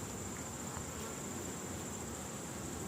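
Honey bees droning steadily as hive frames are lifted and inspected in late summer, a dense continuous buzz close by with no talking.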